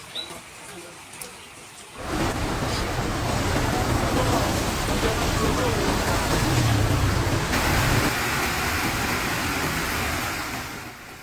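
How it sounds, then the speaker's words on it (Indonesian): Heavy rain pouring down over Semarang during flooding, starting abruptly after a quieter opening and holding as a dense, loud, steady hiss to the end. "Hingga malam hari, hujan masih mengguyur sebagian wilayah Semarang."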